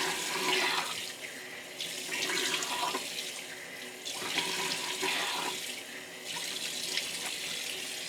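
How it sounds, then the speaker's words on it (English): Cold tap water running into a sink and splashed onto the face in the morning, with rhythmic bursts of splashing over a steady stream, close and moderately loud. "Cold water on the face is amazing."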